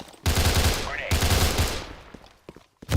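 A loud burst of rapid automatic gunfire from a close-quarters airsoft or paintball skirmish, two sustained volleys in quick succession that trail off into scattered single shots, with no speech.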